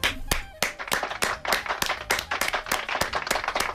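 Distinct hand claps ring out in a steady, fairly quick rhythm, about a dozen sharp close strikes from one or a few people, with no talk over them.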